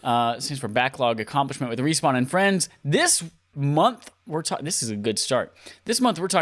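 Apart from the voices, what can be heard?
No everyday noise stands out behind the speech.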